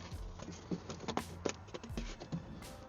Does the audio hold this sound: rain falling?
yes